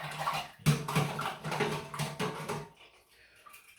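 Running water rinses the handle of a Leaf razor during a head shave, a splashing, pattering flow for about two and a half seconds before it cuts off to near quiet.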